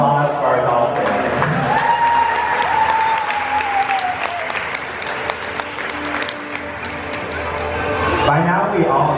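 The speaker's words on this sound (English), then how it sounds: "Let's have a round of applause for our dolphins." A crowd at an Ocean Adventures dolphin show in Gulfport, Mississippi claps and cheers loudly for the dolphins, the sustained roar carrying on for about eight seconds before fading, with a brief high whistle rising over it early on.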